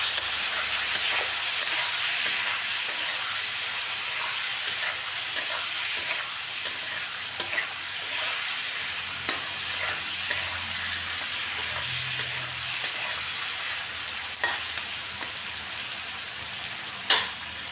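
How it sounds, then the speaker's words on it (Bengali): Turmeric and coriander powder fry in a pan with a continuous close hiss, while a spoon stirs through them with soft scrapes and occasional sharp taps against the metal. "ভালো করে এগুলো নাড়িয়ে চাড়িয়ে নেবো।"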